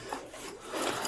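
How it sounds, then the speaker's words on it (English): A switched-off chainsaw dragged along a floor, giving a continuous rough scraping rasp that swells louder toward the end, close by with no talk. "he's super dragging it because the chainsaw was off"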